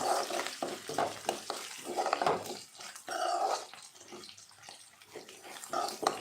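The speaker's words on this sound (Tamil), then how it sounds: "இதில் கடலைப்பருப்பு பூண்டு காஞ்ச மிளகாய் வெங்காயம் கடுகு எல்லாம் போட்டு நல்லா" Chana dal, garlic, dried chillies, onion and mustard seeds frying and being stirred in a pan: a continuous close sizzle with scraping stirs, uneven in loudness, no talk.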